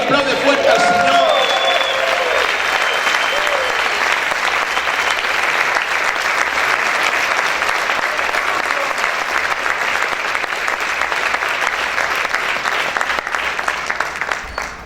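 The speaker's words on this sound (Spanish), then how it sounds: "Grite y aplaude fuerte al Señor." A church congregation applauding and shouting, loud continuous clapping and cheering from many people, with brief voices rising at the start and the roar fading slightly at the end.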